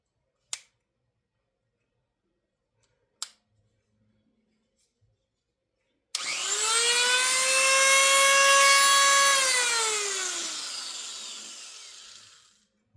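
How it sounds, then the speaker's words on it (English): A drill bores out the chamber of an Ace 38mm lock, starting after a few sharp isolated clicks with a loud, close whine that sweeps slightly and slows as it bites before cutting off. "I'm just gonna drill out the whole chamber."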